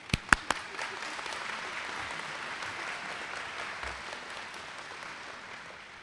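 Applause from the audience at a 2017 College of Lake County GED graduation ceremony, beginning with a few loud, close claps before settling into a softer, steady wash of clapping from a large crowd.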